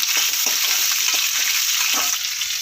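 Onions sautéing in hot oil in a pan for sambar, a loud dense sizzle running throughout with periodic scraping stirs every half second or so, close and unbroken by speech.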